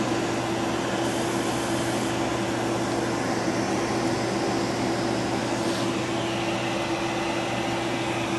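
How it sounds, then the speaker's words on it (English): A vacuum cleaner hose held near an open masonry heater sucks up airborne fly ash. The motor gives a steady, loud whine and drone throughout, with no breaks. "I'm just holding the vacuum hose so that it's catching the airborne fly ash."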